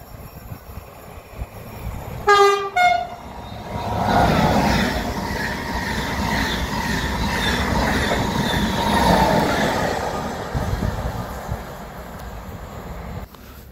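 A TGV Duplex high-speed train sounds a short horn blast, then roars past with rising and fading rumble and wheel noise, heard from trackside and fairly loud, with no talking.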